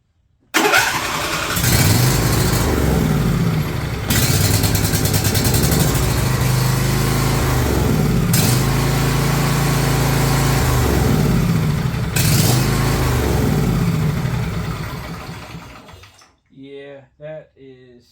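A John Deere LA135 riding mower engine cranks and catches, then runs loud and close with uneven surges in speed before winding down and sputtering out near the end, with someone speaking briefly afterward.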